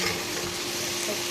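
Poa fish with eggplant, potato and whole spices fries in a pan, a dense, continuous close sizzle with steady spitting and no pauses.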